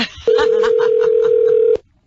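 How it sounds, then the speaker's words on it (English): A steady telephone dial tone plays loud and alone for about a second and a half from a prank call recording, starting and stopping abruptly. "I got to play a phony phone call for you."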